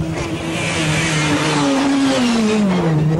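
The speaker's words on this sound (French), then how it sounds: "le bruit de son moteur qui est tout aussi exaltant" A Peugeot 306 Maxi rally car engine roars loud and close, its pitch sweeping down steadily as the revs fall, with a raspy, continuous tone and no voices.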